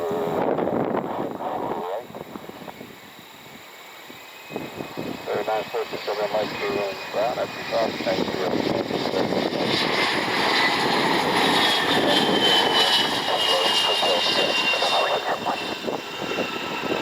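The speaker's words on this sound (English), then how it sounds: "Should be the Challenger inbound." Bombardier Challenger business jet inbound at Cleveland: a growing jet engine roar with a high whine, swelling louder as it approaches, with voices talking over it.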